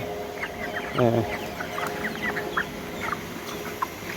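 Several small broiler chickens cluck in short, scattered bursts, with one louder, fuller cluck near the start and softer chirps continuing behind it.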